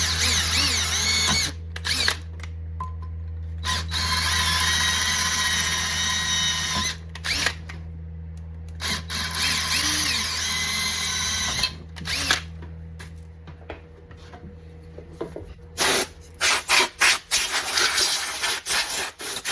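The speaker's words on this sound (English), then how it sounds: "now we gotta just step up these outer holes to 3/16" An electric drill stepping up steam holes from 1/8 to 3/16 inch, whirring loudly in several sustained runs separated by pauses, with short bursts near the end.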